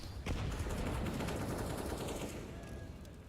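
Gunfire from a tactical shooter match on T-side, a dense burst of overlapping shots with a sharp opening crack, sustained and loud before easing off slightly at the end.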